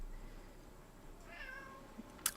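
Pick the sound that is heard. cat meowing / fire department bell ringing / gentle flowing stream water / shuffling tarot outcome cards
cat meowing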